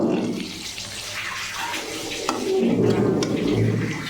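Vermicelli (semiya) fries in a hot oil tempering while being stirred, giving a continuous sizzle with scraping and rustling from the spoon, strongest toward the end.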